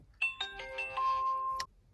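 ATOTO F7XE 10-inch car stereo startup chime as the unit is switched on, a short series of bright electronic tones in ascending steps, clean and close, ending abruptly after about a second and a half.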